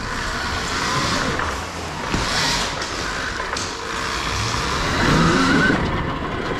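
Alta Redshift MX electric dirt bike on a backyard pit bike track, a whining motor under rushing wind and tyre noise, swelling and easing as it rides past nearby.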